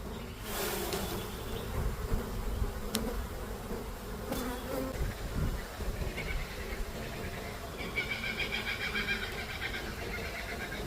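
Honeybees buzz steadily close by during a hive inspection in mid-spring, a dense droning swarm sound with a few louder passing bees and occasional handling knocks.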